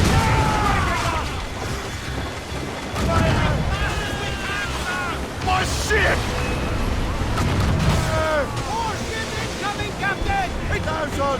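Ship cannons fire during a naval battle in Assassin's Creed Rogue, with deep booms over roaring waves, wind and shouting crew voices, the blasts spaced irregularly amid the chaotic sea noise.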